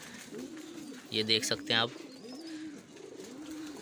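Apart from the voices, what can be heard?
pigeons cooing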